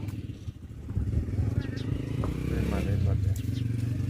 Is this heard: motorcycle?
yes